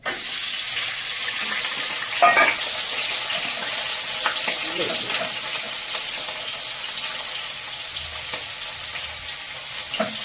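Onion, garlic and ginger fry in a non-stick pan with a steady, close sizzle throughout, broken by occasional stirring scrapes and a few brief clinks.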